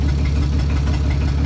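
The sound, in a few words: Hercules 6 cylinder engine running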